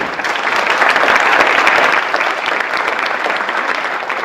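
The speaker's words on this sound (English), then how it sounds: "Round of applause, please." Steady applause from an audience at a Faces of Fatherhood luncheon in 2014, a full, dense wash of clapping that swells slightly, then continues at an even level.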